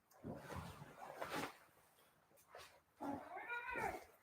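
A cat meows softly up close, a few drawn-out, rising-and-falling cries separated by brief quiet gaps.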